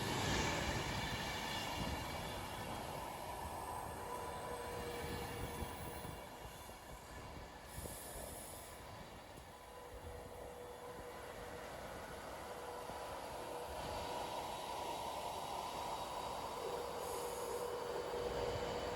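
A Class 390 Pendolino electric train stands at Wigan North Western station before heading out to Edinburgh, producing a steady, loud hum and whine that holds throughout, dipping slightly midway, with no talking.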